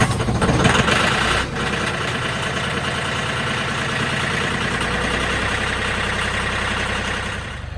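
A Mahindra 1635 tractor engine is cold-started after preheating, with a brief cranking burst, then a loud, steady idle running close by for several seconds with no talk.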